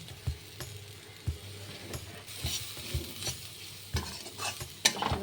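A spoon stirs fried spice mix in a pan for an onion kachori filling, giving soft scraping strokes with light metallic clinks over a faint low sizzle, fairly quiet and close.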